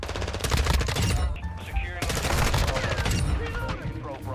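Rapid automatic gunfire from the Modern Warfare II video game, sustained bursts with sharp shots including a shotgun blast, loud and dense across the whole stretch with a voice talking briefly.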